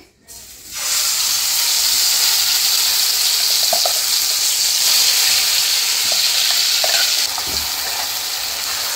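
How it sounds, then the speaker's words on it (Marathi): Masala paste sautéing in a hot pan gives a loud, steady sizzle and hiss that starts abruptly and holds for several seconds, with faint stirring clinks underneath. "हे पहा छान असं परतून घेऊ आता आपण।"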